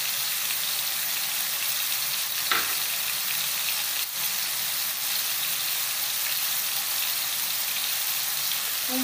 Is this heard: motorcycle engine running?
no